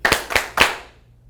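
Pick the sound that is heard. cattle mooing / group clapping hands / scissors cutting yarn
group clapping hands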